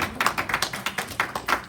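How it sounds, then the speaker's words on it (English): A church congregation claps for Jesus while taking their seats: a handful of sharp, near claps in an uneven rhythm, about eight distinct hits, fairly loud with no talking. "I want you to clap for Jesus as you have your seat."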